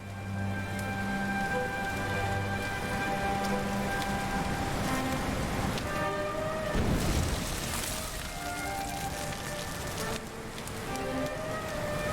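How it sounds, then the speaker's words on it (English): Steady rain in Dragon Quest XI S falls as a dense, even hiss throughout, layered over sustained musical tones from the game's score, with a brief louder swell midway. "Looks like the rain's dying down."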